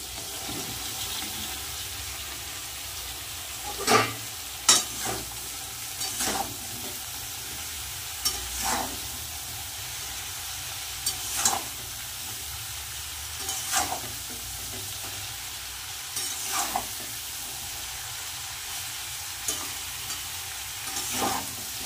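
Taro stolons fry with prawns in a pan, giving a steady low sizzle punctuated by periodic scraping stirs of a spatula, spaced a few seconds apart.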